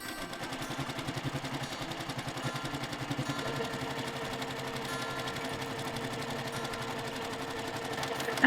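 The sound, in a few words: sewing machine stitching a baby quilt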